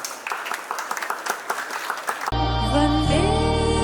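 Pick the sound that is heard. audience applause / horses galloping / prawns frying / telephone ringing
audience applause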